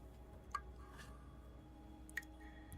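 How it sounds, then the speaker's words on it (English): Two isolated water drips plink into a still, glass-smooth cave pool, spaced well apart against near silence, faint and close with a slight hollow ring. "Even though you can hear this dripping, you don't see any ripple at all in the water surface."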